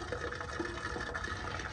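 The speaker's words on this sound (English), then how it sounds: "Hear that water running?" Water runs steadily inside a sewer clean-out pipe, a continuous close, hollow rushing and trickling wash with no talk over it.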